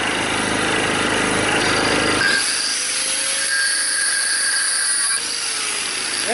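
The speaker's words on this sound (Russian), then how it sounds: "начинаем с болгарки" A power tool whines loudly, then cuts off abruptly and a lower motor hum continues with a faint rising tone.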